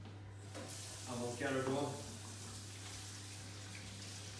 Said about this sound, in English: So firstly I'm just going to wash my hands